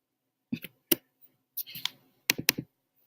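Computer mouse clicked in quick, sharp taps during color-theory design work, arriving as single and double clicks with short pauses between them, close and fairly quiet, with no talking.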